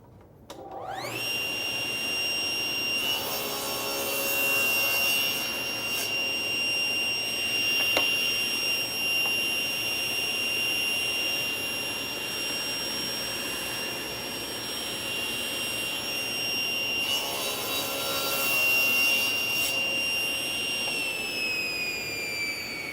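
A saw in a woodworking shop cuts wooden rails for overlay cabinet doors two at a time: a sustained high whining motor with two louder bursts as the blade passes through the wood, no talk.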